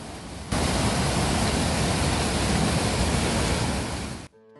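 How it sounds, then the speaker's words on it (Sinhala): Water rushing down the wide Bomburuella waterfall in Sri Lanka, a steady dense roar heard close and loud after a quieter opening, then cutting off abruptly near the end. "බලන්නකො මේ වතුර ගලාගෙන යන සද්ද කනට කොයිතරම් මිහිරිද කියලා."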